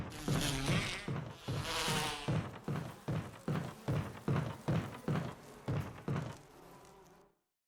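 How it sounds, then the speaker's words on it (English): Wasps buzzing in the Resident Evil (2002) video game, a dense insect drone that swells and pulses in a rapid, steady rhythm, close and fairly loud, then cuts off abruptly. "I'm pretty sure those are wasps, not hornets, but they're definitely not bees."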